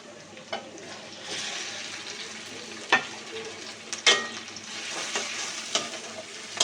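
Onions frying in a pan as chopped tomato goes in for an egg butter tarka gravy, a steady sizzle broken by a few sharp stirring scrapes and clinks, close and moderately loud with no talking.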